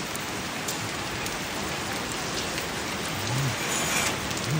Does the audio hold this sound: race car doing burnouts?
no